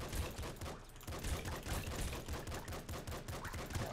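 Continuous weapon fire in the video game Nuclear Throne comes as a dense, rapid stream of quiet gunshots, unbroken for the whole stretch with no speech.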